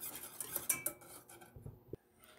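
A utensil stirs chocolate sauce and milk in a pot, with quiet clinks and scrapes of metal against the pot in a short, irregular burst that fades away.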